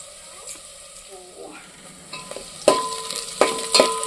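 Ginger garlic paste frying in a pan, a soft hiss that builds into loud sizzling with several sharp spatters and stirring scrapes toward the end, close up.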